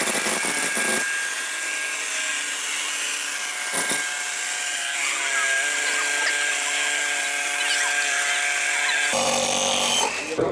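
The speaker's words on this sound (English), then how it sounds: "So here we have a new drill with 36mm auger bit." A new drill fitted with a 36mm auger bit bores through glulam timber, a loud, steady whining drone that runs almost continuously, with a brief dip near the start and a shift in pitch near the end.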